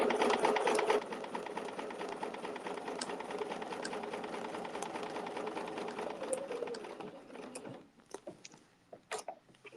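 Sewing machine stitching fabric in a steady close run for most of the stretch, then slowing and stopping into a few faint clicks and handling sounds.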